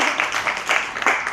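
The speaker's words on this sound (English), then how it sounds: "so we can give them a round of applause." A seated audience at a talk about film prep and post-production gives a short round of applause, a close, dense patter of clapping that swells and fades in uneven waves.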